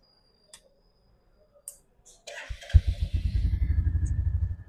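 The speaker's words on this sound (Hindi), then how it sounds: "अभी इंजन स्टार्ट हो गया" A 2024 Royal Enfield Classic 350 in stealth black gives a few faint clicks, then a starter whirrs and the single-cylinder engine fires into a steady, close, rhythmic thumping idle.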